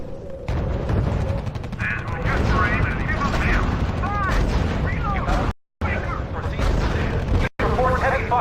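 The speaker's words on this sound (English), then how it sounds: "Reports heavy fire." Heavy gunfire and artillery explosions from the strategy video game R.U.S.E. roll on continuously and loudly, a dense battle din with bursts and booms, broken by two brief silent gaps, while radio-style voices speak over it.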